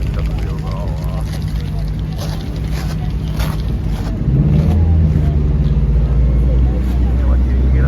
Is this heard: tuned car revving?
yes